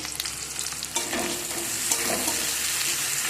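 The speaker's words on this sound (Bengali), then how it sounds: "সেই জন্য আমি পেঁয়াজ ভাজা করে নিচ্ছি" Chopped onions frying in a pan for a chicken dish, a steady close sizzle with stirring scrapes throughout, no voices.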